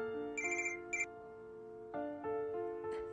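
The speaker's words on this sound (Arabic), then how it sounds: "ماجد على التليفون." A mobile phone ringtone chimes in repeated bright electronic bursts with a sustained melodic tone beneath, fairly clear and alone with no talk.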